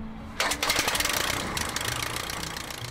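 A Curtiss Pusher aircraft engine runs steadily with the throttle cracked open, a loud continuous mechanical clatter and rumble that starts abruptly and holds at an even level throughout, with no talking.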